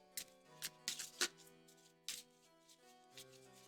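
Quiet riffling and soft slaps of tarot cards being shuffled, a few short bursts spaced over a few seconds, with a faint musical tone underneath.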